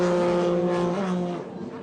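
A GP personal watercraft racing boat on Lake Havasu screams past at high revs, its loud, steady engine tone holding and then fading as it moves away.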